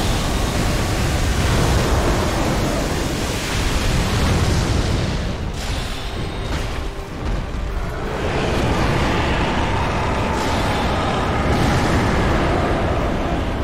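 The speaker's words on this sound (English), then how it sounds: "Laser beam again." Darkeater Midir's laser beam attack in Dark Souls 3 roars as a loud, dense, sustained rushing blast that fills the whole stretch, dipping briefly midway before surging again.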